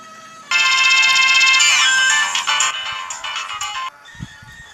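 A phone rings loudly with a bright electronic ringtone after a missed call, one sustained melodic burst that starts abruptly, then fades into quieter broken tones and faint background noise.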